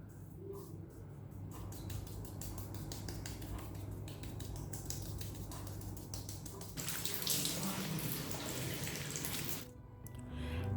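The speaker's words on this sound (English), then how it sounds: "As I'm rinsing the mask off, it is foaming up like normal cleansers." Water runs steadily from a tap as foaming face cleanser is rinsed off the face, a continuous close splashing flow that grows louder and brighter toward the end. No one speaks.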